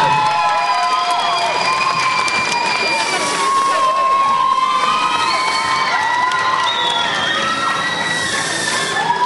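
A crowd at a beauty pageant applauds and cheers a contestant, number 11, named first lady of charity; loud sustained cheering with high whoops and children's shouts rides over continuous clapping throughout, with voices mixed in.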